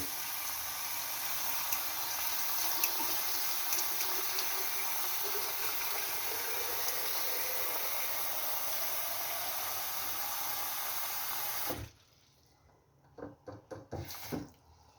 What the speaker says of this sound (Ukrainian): І набираємо повну банку холодної води.